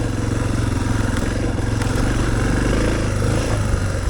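Suzuki DR650 single-cylinder motorcycle engine running steadily on a trail, a loud, continuous low throbbing drone with some mechanical clatter that holds even throughout, no voices.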